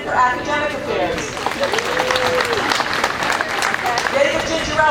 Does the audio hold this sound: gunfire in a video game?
no